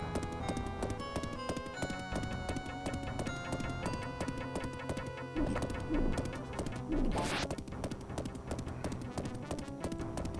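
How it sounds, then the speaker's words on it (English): In the retro video game Dahna: Megami Tanjou, a synthesized horse clip-clop and whinny plays on a player death, steady chiptune hoofbeats mixed with game music. "I love that you get horse noises when you die there."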